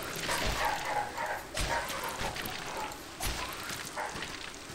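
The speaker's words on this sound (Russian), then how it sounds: "Да, собаки аж разрываются." Dogs in the video game Salt and Sanctuary bark repeatedly in short, loud bursts spaced about a second apart over a constant noisy game ambience.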